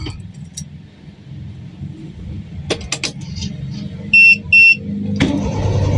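A car engine with a long-cranking starting fault turns over in a few short bursts, then catches and settles into a steady idle, with two brief electronic beeps partway through.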